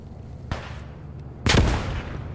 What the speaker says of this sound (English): Frag out my front, frag out, frag out.